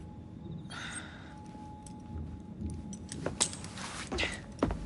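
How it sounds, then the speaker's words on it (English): Keys jangle as they are handed over in Assassin's Creed Syndicate, a few brief metallic clinks and rattles near the end, quiet, over faint room ambience and a soft tone. "Now hand over your keys."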